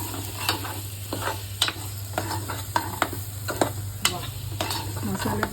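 Masala cooked down with kokum sizzling in oil for a pomfret fry, a soft steady bubbling hiss broken by repeated scraping and stirring strokes of a spoon against the pan, close up with a low hum beneath.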